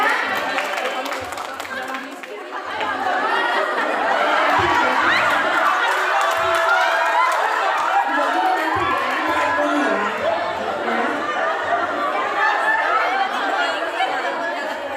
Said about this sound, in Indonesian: tepuk tangan dulu buat mereka bertiga ya